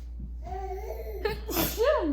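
An adult voice makes playful fake sneezes, imitating the sound twice in quick succession, close and clear, with a child's babbling and light giggling around it.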